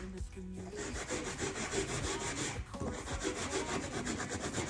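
A rusty blade from a magnet-fishing find scrapes back and forth against a multi-grit sharpening block in steady, rhythmic rasping strokes close up, with a brief pause partway through and no voices.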